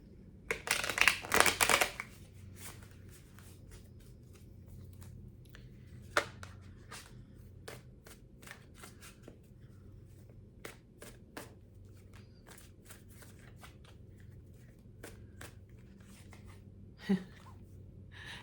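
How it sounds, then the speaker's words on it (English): Tarot cards being shuffled by hand: a loud riffling burst at the start, then sparse soft card taps and slides, close and quiet with breathing in between. "Let me do some more shuffling."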